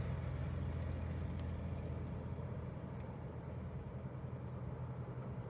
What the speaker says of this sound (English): I got a truck going by.